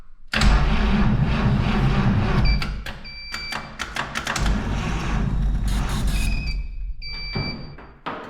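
An old car engine that has sat for 50 years cranks and catches, then runs loud and rough at idle with uneven sputters and rattles before dying away at the end.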